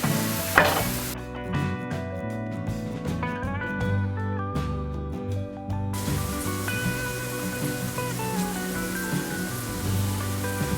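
Quartered Bella mushrooms sizzle steadily in a pan, a continuous crackling hiss with a brief stir or toss near the start over faint background music, no voices.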